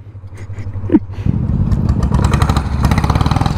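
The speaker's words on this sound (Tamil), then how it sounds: "this is diesel bullet. Start பண்ணு ப்ரோ." A diesel Bullet motorcycle engine is cranked and fires up, then settles into a loud, close, thumping idle with a steady rhythmic beat.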